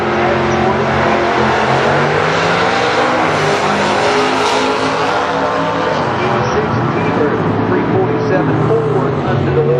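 Drag racing cars, one with a 632 cubic inch Chevy engine in the left lane, roar down the strip, a loud sustained engine howl shifting in pitch, with an announcer talking over it throughout.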